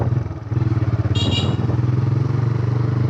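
A TVS Raider 125 motorcycle rides along a crowded road on Eid day, its engine droning close and steady with a pulsing rhythm, a brief clatter midway and no talking.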